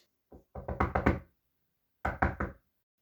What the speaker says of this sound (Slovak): Tak to klopa